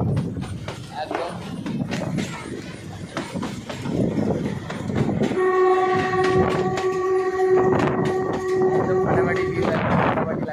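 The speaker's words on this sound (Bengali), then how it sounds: "150 বছর পুরনো আগেকার এই ট্রেনে সফর করে আজকে খুব ভালো লাগছে" A 150-year-old train running through a forest gives a steady rumble and rhythmic clatter, with a long, sustained horn blast partway through, while people talk over it.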